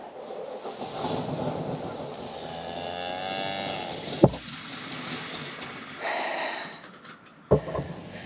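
Cows on a farm moo in long, drawn-out calls, one after another, fairly close, with a couple of sharp knocks and a low engine rumble in the background.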